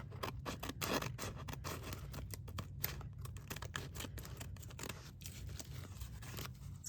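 Scissors snip repeatedly through washi tape along the edges of a paper journaling tag, giving a close, quiet series of crisp cuts and scratchy slides at an irregular pace, with no talking.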